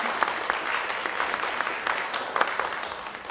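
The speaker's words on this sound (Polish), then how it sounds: "A te piękne światła to zasługa pana Mateusza Obreślaka. Również wielkie brawa" A concert audience at a Michael Jackson tribute show applauds the lighting designer, steady crowd clapping heard close and continuous with scattered sharper claps standing out.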